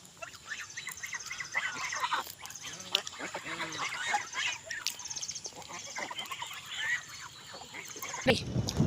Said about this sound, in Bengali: এগুলো হলো পাতি হাঁস